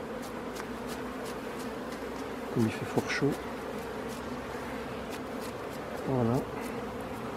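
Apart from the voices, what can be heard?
honeybees buzzing around a hive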